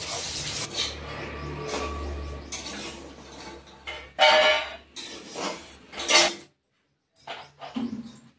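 Potatoes fry in a pan for aloo bari sabji and are stirred, giving irregular scraping and clinking bursts over a low background hum, with short pauses between strokes.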